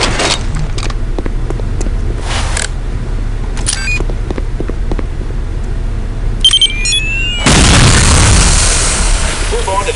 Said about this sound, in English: Once a radio bomb is planted, take cover and press your fire key to detonate the bomb.